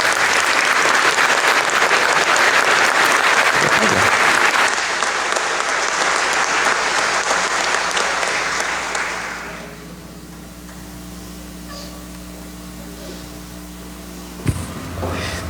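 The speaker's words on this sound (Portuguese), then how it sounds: "Mais uma salva de palmas." A church congregation at a celebration of Saints Peter and Paul bursts into loud, dense applause that holds steady for several seconds, then fades to a quieter room with a low hum and a single sharp knock near the end.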